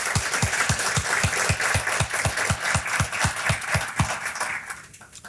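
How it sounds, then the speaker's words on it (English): A crowd at a supporter celebration applauds board members, with one nearby person clapping in a strong, regular beat over the broader patter of many hands, which thins and fades out at the end. "Would you give those folks a big round of applause?"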